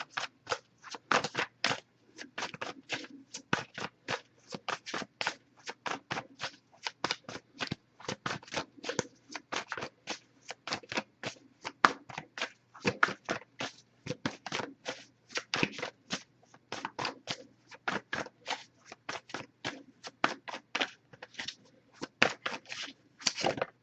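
Tarot cards are shuffled over and over, crisp rapid riffling bursts repeating in a steady rhythm, close up and alone.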